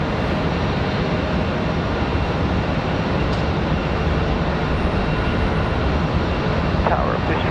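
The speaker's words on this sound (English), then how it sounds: "That last departure headed off to Chicago, American Airlines 2343." An American Airlines jet departing Charlotte Douglas for Chicago gives a loud, sustained roar of engine noise at takeoff, dense and unbroken throughout.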